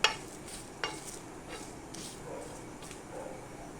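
Whole garam masala, two dried red chillies, two bay leaves and a spoonful of cumin seeds fry in a pan with a quiet sizzle, broken by a few sharp scraping stirs near the start.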